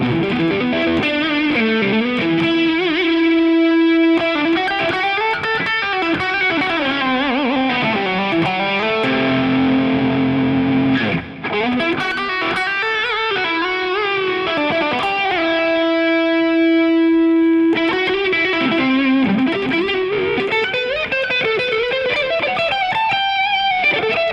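Heavily distorted electric guitar fitted with a Floyd Rose, playing a continuous run of picked notes and held, ringing tones with bends, loud and alone with no talk.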